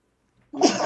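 One sharp, loud human sneeze bursts out suddenly after near silence and rings on briefly.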